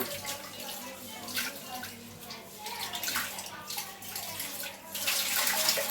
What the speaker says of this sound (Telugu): బెండకాయలు అయితే శుభ్రంగా కడుక్కుంటున్నాను అండి